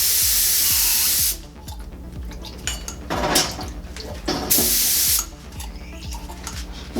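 An Iwata LPH 80 spray gun hisses out bursts of cleaner in several loud blasts, with clattering and rattling sounds in between.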